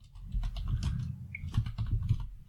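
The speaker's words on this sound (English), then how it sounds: "All right, I'm typing that out so you can hear that right now." Rapid keystrokes on a computer keyboard clatter steadily in an irregular rhythm, close and fairly loud, with no voices over them.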